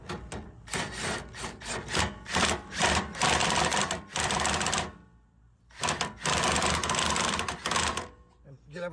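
An impact wrench hammers lug nuts off a tire in several loud, rattling bursts, each lasting about a second, then a longer run after a short pause.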